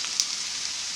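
A steady, bright sizzle of chopped capsicum and vegetables sautéing in a hot pan, continuous and close, with a small pop near the start.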